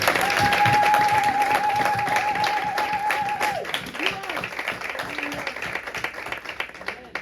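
Church congregation at a Sunday service applauding, with steady clapping from many hands that slowly thins out, while a sustained voice or tone carries over the start.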